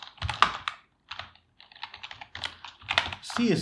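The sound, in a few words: typing on a computer keyboard while writing CSS code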